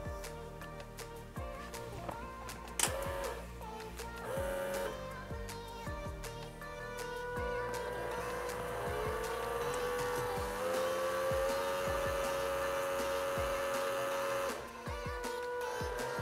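A small DC motor driven by an Arduino through an L298N H-bridge whines as it ramps up, its pitch rising before it holds a steady high tone and then stops, close and fairly quiet.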